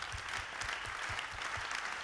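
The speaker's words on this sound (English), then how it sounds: "So an applause for the debate." Applause from a conference audience at a women-in-tech event after a debate: dense, steady clapping across the whole moment with no voices on top.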